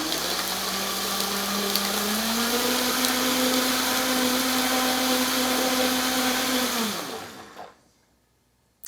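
A blender whirs loudly and steadily as it purees homemade barbecue sauce with onion and garlic, its pitch rising partway through, then winds down and stops.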